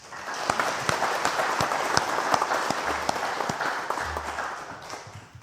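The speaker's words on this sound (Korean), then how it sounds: "우리 박수 한번 해줍시다." A church congregation claps after a worship song, a steady, moderately loud round of applause with distinct individual claps standing out, tapering slightly at the end.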